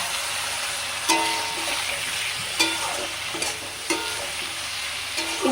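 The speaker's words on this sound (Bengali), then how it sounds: "মশলা যাতে না পুড়িয়ে হালকা জল দিয়ে একটু কষিয়ে নেব" Ground cumin, coriander and turmeric sautéing in a pan with a little water, a steady close sizzle with periodic spoon scrapes roughly every second and a half.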